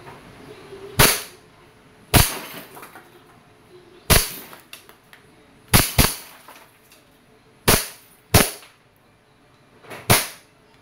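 A Colt M45 CQBP airgun fires seven sharp, loud cracking shots at irregular intervals of about one to two seconds, each followed by a brief decay, with no talk.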